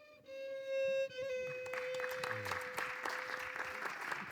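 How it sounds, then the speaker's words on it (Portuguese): After a held tone fades, a poetry-reading audience breaks into applause, a rising spatter of clapping that carries on to the end alongside a low sustained note. "As palmas são naturalmente para a Adília"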